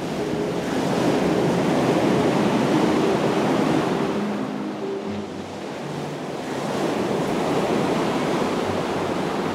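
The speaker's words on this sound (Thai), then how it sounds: "มีเสียงคลื่นครั่นครื้นครวนครางอยู่เบื้องล่าง" Ocean waves surge and wash continuously in a loud, full roar of surf that swells and eases gently, with a windy hiss throughout and no voices.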